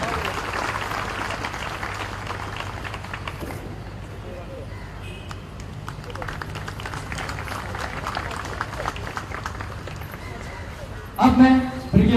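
Audience clapping for children at a Swarnim Vijay Varsh victory anniversary ceremony, a broad, moderately loud wash of applause that thins in the middle, then builds again, with a voice and a brief clatter near the end.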